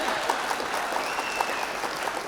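Steady applause from an audience at a Hindi comic poetry gathering, a mushaira and kavi sammelan, with dense clapping sustained throughout and no speech over it.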